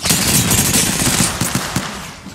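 Automatic weapon fire in the battle royale game Apex Legends: a loud, rapid stream of close shots rattling continuously, then thinning into a few separate bursts.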